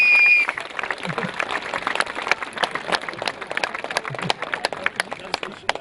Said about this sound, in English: I want everyone to give a round of applause to our guest of honor